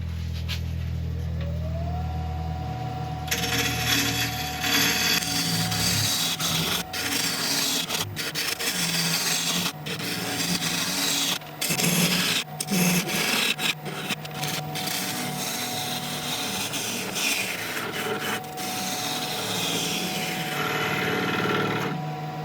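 A woodturning tool being sharpened in a workshop: a motor whine rises after a couple of seconds and holds steady while close, loud scraping bursts of grinding come and go for about twenty seconds, with no talk.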